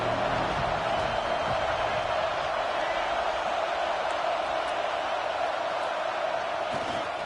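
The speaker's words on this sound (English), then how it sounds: "This Auburn crowd trying to conjure up a little magic here on 3rd down." A dense roar from the stadium crowd at an Auburn homecoming football game builds on third down, a steady wash of noise with a sustained tonal hum, under faint speech.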